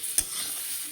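Rice being stirred in a pot with small splashes of water added, a short scrape of a spoon against the pot over a soft continuous sizzle, close and brief.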